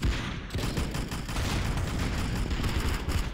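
Dense volley of video-game gunfire including a Luger pistol shot, loud and continuous, with sharp overlapping cracks and booms filling the whole stretch, in an Arsenal shooter match.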